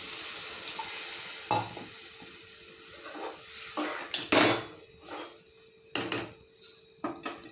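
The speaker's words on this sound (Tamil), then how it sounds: "நல்லா கொதிக்கட்டும்." Tomato thokku simmers in a pan after water is added, with soft bubbling and sizzling broken by several sharp clinks and scrapes of a spoon against the pan.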